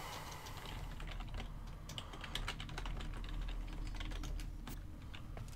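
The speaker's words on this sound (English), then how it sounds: "I can type relatively fast without being too loud on the keyboard" Fast, fairly quiet typing on a computer keyboard during a Warframe session, with a steady patter of key presses over a low background hum.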